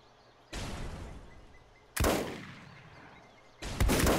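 Turret fire in Volcanoids comes as three loud, harsh bursts, each lasting more than a second and separated by short quiet gaps. The bursts sound close and dominate the clip.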